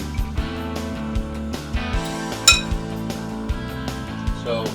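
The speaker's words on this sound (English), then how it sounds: "Just going to stir this up." A spoon stirring pulled beef and juice in a pot clinks sharply against the metal several times at an irregular pace, over a steady background of music.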